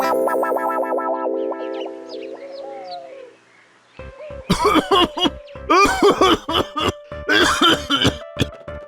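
A cartoon character in an animated Gopal Bhar episode breaks into a dry coughing fit, with harsh, rapid bursts in quick succession after a warbling, distorted effect sound and a brief pause.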